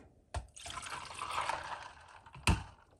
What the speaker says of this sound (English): I'm getting a cup of milk. 1 cup.